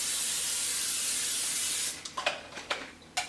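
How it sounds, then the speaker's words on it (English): Pam cooking spray hisses onto a pan in one steady burst of almost two seconds, followed by a few short sputtering puffs. "So the first thing you're going to want to do is spray your pan with Pam."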